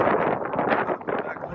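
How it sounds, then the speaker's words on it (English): Strong wind buffeting outdoors at a hotel stop in Death Valley, a loud, continuous rushing roar with gusty fluctuations, brief. "It's really windy"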